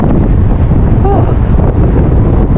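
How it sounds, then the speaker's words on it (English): Strong gusts buffet the microphone nonstop on a very windy day on the Blackpool seafront, a loud low roar that fills the whole clip, with a brief faint whistle-like tone partway through. "that wind needs to do one"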